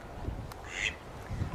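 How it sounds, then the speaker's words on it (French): Small ducks quack once in a brief, moderately loud call outdoors near old stone ruins in Illiers-Combray, France, with a low background rumble. "il y a toujours les petits canards qui sont là."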